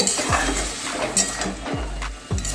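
A metal spatula scrapes and knocks against a pan while a spice mix is stirred and fried with ridge gourd and prawns, giving a few sharp clinks and thuds over a steady frying hiss.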